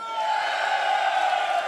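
A live esports crowd at a major tournament final cheers and roars in response to the host, a loud, sustained wall of shouting voices close and continuous.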